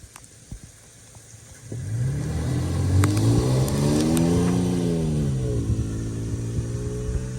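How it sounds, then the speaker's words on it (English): A 2022 Toyota Tacoma pickup on stock tires pulls away at full throttle in snow. The engine note climbs steadily and loudly through the revs, then eases off near the end. "So I'm just gonna take off now, full throttle, in the snow."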